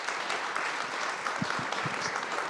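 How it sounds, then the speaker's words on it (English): Audience applause for a panel at a community talk on Brooklyn community boards, a steady wash of many hands clapping at moderate distance, continuous for a few seconds. "Can we have another round of applause for our panel?"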